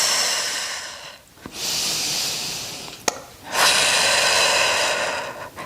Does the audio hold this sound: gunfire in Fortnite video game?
no